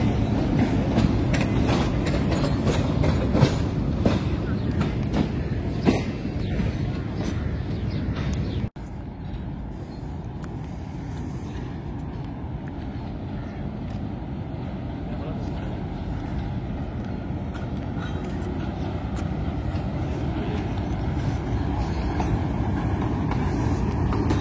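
Islamabad Express rake at Rawalpindi station, a loud steady rumble of rolling train wagons with rhythmic clickety-clack, continuous and close throughout, with voices faintly mixed in.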